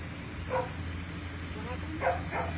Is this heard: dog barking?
yes